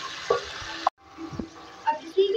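Potatoes are stirred in a frying pan with cumin, the spoon scraping and clanking in short strokes over a soft sizzle, with a sudden brief gap partway through.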